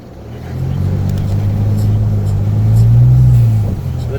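Ford F-150 pickup truck, leveled and fitted with 35-inch tires, driving along with a steady, fairly loud low road rumble and engine drone from inside the cab, swelling slightly midway before easing off.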